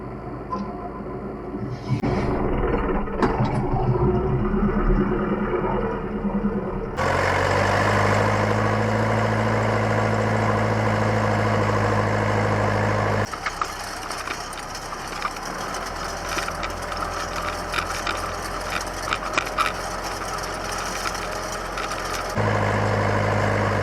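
A Zoomlion 504 tractor engine runs steadily while raking alfalfa hay, a loud, continuous low drone close by that shifts in tone partway through as the working gear and load change, with mechanical rattling over it.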